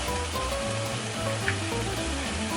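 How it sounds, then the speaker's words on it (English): Onions sizzle steadily in a hot pan as tomato paste is stirred in, giving a dense, even frying crackle with soft scraping of the spoon, close and continuous. "I'm going to do the next step, which is to stir in the tomato paste."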